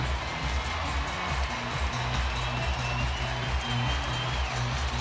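Steady, loud baseball stadium crowd roar with cheering and scattered applause during a night game between the New York Yankees and Oakland Athletics, a continuous wash of sound over a crowd of about 33,000.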